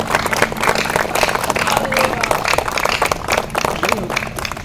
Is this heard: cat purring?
no